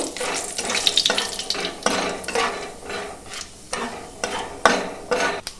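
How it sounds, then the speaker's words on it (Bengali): Bay leaves, a dried red chilli and whole cumin crackle in hot oil while a spoon stirs them, giving rhythmic scraping sweeps over a bright sizzle, up close and without speech. "একটু ভালো করে নাড়াচাড়া করে একটু ভেজে নেব।"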